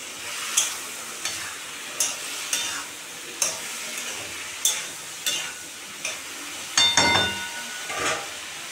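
Greens with turmeric and salt being stirred in a frying pan: about a dozen rhythmic spatula scrapes, each raising a burst of sizzle over a low, constant fry, close and clear with no talk.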